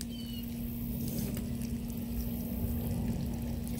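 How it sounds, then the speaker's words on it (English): Water poured from a canteen onto a potted Persian Shield plant, a soft steady trickle and splash at close range, quiet and continuous for a few seconds without talk. "I'm gonna water the other one."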